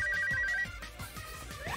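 A phone ringtone plays a repeating electronic beeping melody, then rising synthetic tones, with a rhythmic low thumping beat underneath.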